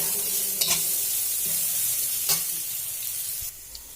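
Onion and carrot for a Maggi noodle dish fry in a pan with a steady hiss, while a few sharp spoon scrapes and taps of stirring break through at intervals.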